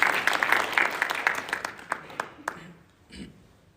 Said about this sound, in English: I think she can have a round of applause.